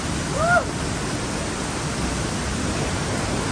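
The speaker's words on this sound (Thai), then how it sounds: "น้ำตกสวยมาก" A forest waterfall in the Thai–Myanmar border jungle gives a steady, dense roar throughout, with one brief chirping call near the start.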